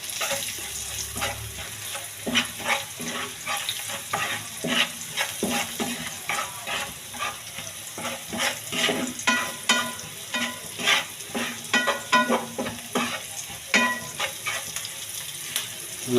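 Hilsa fish head with taro leaves (kochu shak) and chili powder being stirred in a pan, with steady sizzling and frying and repeated clinks and scrapes of a spoon on the pan throughout.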